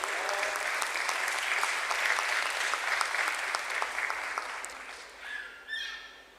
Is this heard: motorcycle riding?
no